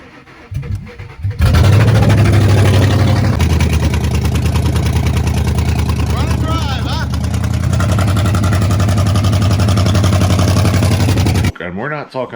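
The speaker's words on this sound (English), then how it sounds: "before it even starts, you can hear there's a cylinder out of it. That means there's no compression in something." Car engine cranking and then firing into a rough, uneven idle with one dead cylinder and no compression, loud and close, running steadily for about ten seconds before cutting off, with a voice heard at the end.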